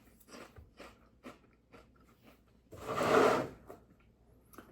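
Dry, brittle Frosted Flakes cereal is chewed close up: a series of light crunchy bites with short gaps, then one louder, longer crunching burst, with no talk over it.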